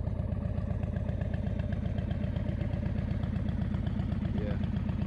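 Indian Chief motorcycle engine idling steadily up close, a continuous low throbbing pulse with an even mechanical beat, loud and unbroken throughout.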